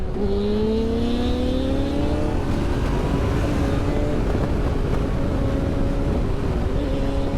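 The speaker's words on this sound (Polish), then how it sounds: "z nowymi wydechami, fajnie ją słychać" A Yamaha Tenere 700 Rally motorcycle with new exhausts drones steadily and loudly, pitch rising gradually as it accelerates, with heavy wind rumble over the recording.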